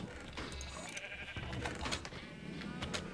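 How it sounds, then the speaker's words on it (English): A sheep in a farm-themed video game bleats in a wavering, nasal cry that fills most of a few seconds, loud and close over faint background. "How'd you get out, Mr. Sheep?"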